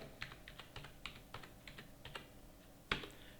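Quiet clicking of keys on a computer keyboard as form details are entered, irregular bursts of keystrokes with short pauses and one sharper tap near the end.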